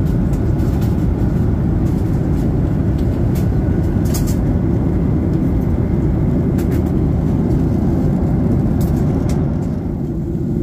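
Loud, steady roar of an airliner cabin on a roughly two-hour domestic flight in Australia heading toward Melbourne, a dense continuous engine and airflow drone with no voices.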